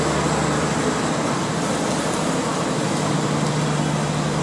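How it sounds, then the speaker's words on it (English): A generator runs at a construction site near a train station, giving a loud, steady, unbroken drone with a low hum that holds evenly throughout. "Here they're running a generator."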